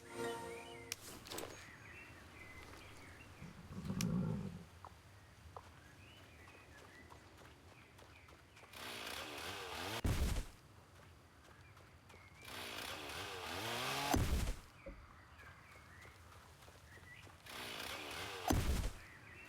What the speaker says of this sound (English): Remove any undergrowth around the inn with the chainsaw.